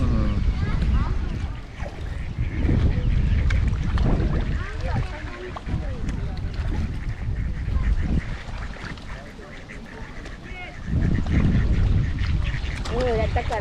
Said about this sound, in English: that duck got a big piece